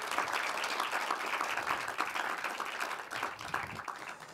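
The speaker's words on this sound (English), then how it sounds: "a round of applause" Audience applause at a climate panel discussion in Munich, a steady, moderately quiet round of clapping from a seated crowd lasting several seconds.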